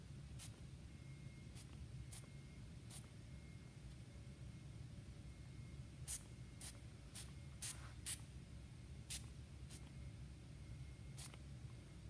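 Steady hiss of spray paint from an aerosol can pressed over a stencil onto a T-shirt, close and continuous, with a few faint sharp clicks scattered through it.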